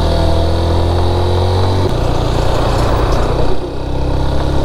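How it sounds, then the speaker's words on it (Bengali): A Honda motorcycle engine strains hard climbing a steep hill on a road trip from Dhaka to Sajek in Bangladesh, a loud close drone that shifts pitch partway through and keeps labouring. "হুন্ডার সর্বোচ্চ শক্তি দিয়ে মানে কষ্ট হয়ে যাচ্ছে ওঠা, বাইক উঠতেই পারতেছে না"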